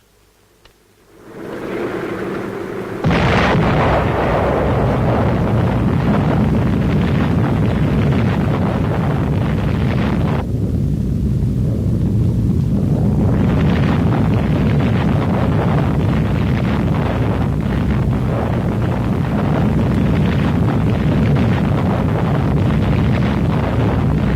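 A nuclear test explosion equivalent to about 35,000 tons of TNT lets out a long, loud, roaring rush that swells after a short quiet start, then stays as a sustained, wind-like, buffeting rumble.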